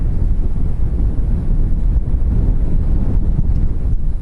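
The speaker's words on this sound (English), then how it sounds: "It is so windy." Strong outdoor wind buffeting the microphone: a continuous loud low rumble with gusty fluctuations and no clear other sounds.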